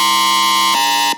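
A bright, buzzing dubstep synth bass with effects holds two sustained notes, the second a step different, then fades out with a short tail.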